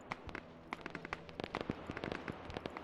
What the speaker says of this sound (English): Okay, you guys hear those gunshots.